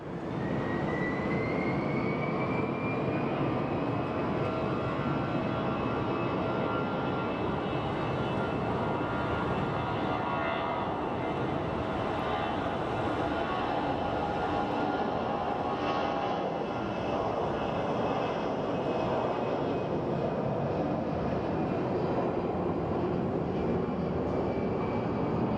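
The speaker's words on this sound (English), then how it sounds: "looks like we do actually have a 737 coming in for a landing" A Boeing 737 jet airliner landing at Sky Harbor Airport, heard as a broad, steady engine roar at moderate distance, with a whining tone that slowly falls in pitch and lasts throughout. No voices.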